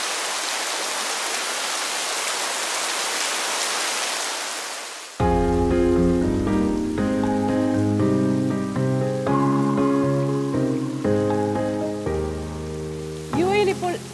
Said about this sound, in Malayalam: ഷാർജയിലെ മഴമുറി തോരാത്ത മഴയുമായി നിങ്ങളെ സ്വാഗതം ചെയ്യും